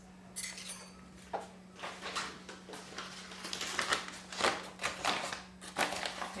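Berry crumble ingredients stirred with grated lemon zest in a bowl, giving a string of close utensil clinks and scraping taps in an irregular rhythm over a steady low hum.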